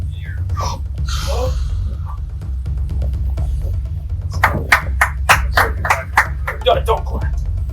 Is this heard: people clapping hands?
yes